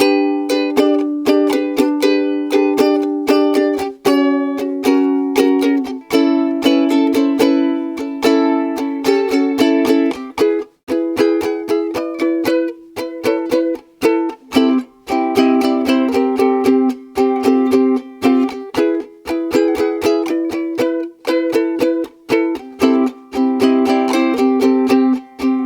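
Ukulele strums and picks the pre-chorus of a grunge song: steady, loud rhythmic chords with little accent notes mirroring the melody, played solo with no voice for about twenty-five seconds.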